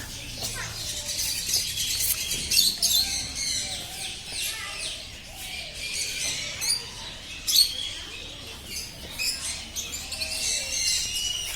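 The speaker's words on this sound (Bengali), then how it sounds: "এখানে ময়ূরও খাবার খাচ্ছে। ময়ূর ইংরেজি পিকক।" A peacock at Nahar Garden in Manikganj gives loud squawking calls among chirping birds, with people talking nearby between the cries.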